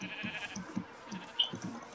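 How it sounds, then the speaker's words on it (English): Sheep bleating in a survival video game, with repeated short bleats from several animals overlapping at a soft to moderate level, mixed with a faint steady game background. "There's so many sheep here."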